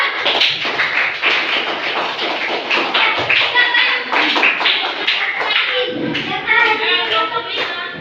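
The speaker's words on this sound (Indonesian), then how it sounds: "sekarang semua beri aplaus buat kelompok 2" A classroom of children applauds for a student group, quick overlapping claps with a few voices mixed in, steady and close for several seconds.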